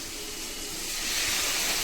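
Water poured into a hot pan for fish stew sets off a loud hiss and sizzle of steam that swells and grows stronger toward the end of a brief moment, with no voices over it.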